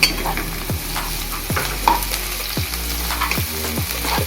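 Carrot strips stir-fry in a pan for Indian-style pasta. A spatula scrapes in regular strokes roughly every second over a loud, steady sizzle.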